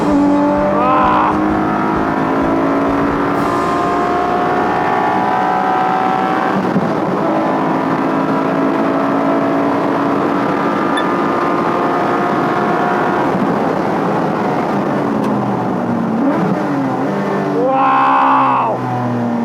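Car driven hard around a race track, engine revving loud and continuous with rising and falling pitch through gear changes, a brief high squeal near the end; sustained close in-car roar throughout.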